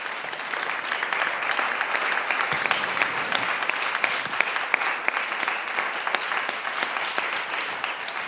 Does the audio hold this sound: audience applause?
yes